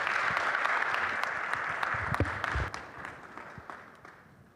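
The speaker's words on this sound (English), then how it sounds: "Let's give them a round of applause." A panel audience at a blockchain summit gives a round of applause for the panelists, a dense wash of clapping that holds steady and slowly thins toward the end.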